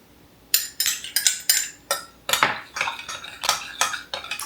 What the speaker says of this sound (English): I'm going to add to it some inulin and stir that up a bit